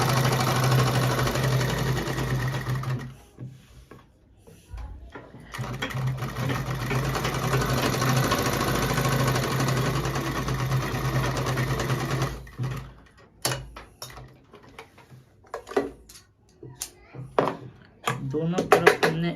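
Sewing machine stitching the side seam of a kameez, running in a steady loud whir for about three seconds, then again from roughly five to twelve seconds, followed by short stop-start bursts.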